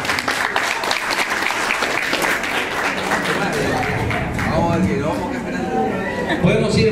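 Guests at a family celebration applaud, clapping strongly at first and then thinning out as chatter and voices take over, with music starting toward the end.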